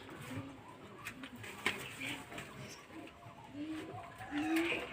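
Soft, low pigeon coos repeat in short rounded phrases, close by, with light rustling and shuffling around them.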